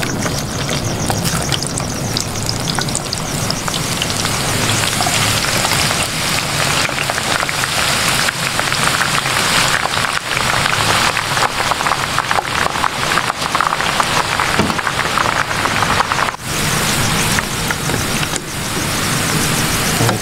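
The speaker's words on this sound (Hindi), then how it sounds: "इन्नी देर असी प्याज फ्राई कर लें।" Sliced onions for vegetable pakora sizzle and crackle steadily in hot oil in a frying pan, a dense, continuous hiss that holds loud and unbroken throughout.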